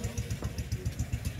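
A classic motorcycle engine idles close by at a veteran motorcycle show in the Netherlands, with a rapid, even, thumping putter, steady and moderately loud throughout.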